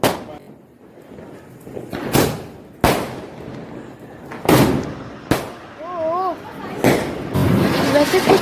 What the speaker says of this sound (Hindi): मेरे पापा पटाखे पे पटाखे बजाए जा रहे थे।